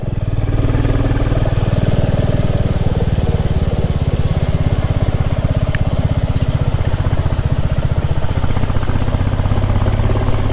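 A motorbike ridden along a mountain road from Gorubathan toward Lava in the hills, its engine droning loud and steady at close range for the whole stretch, with a rough, even throb and no speech.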